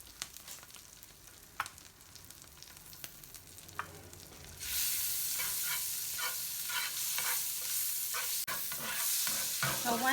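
Oil and butter melt together in a hot pan, starting quiet with a few clinks before a loud, steady sizzle bursts in midway and carries on with faint scraping underneath.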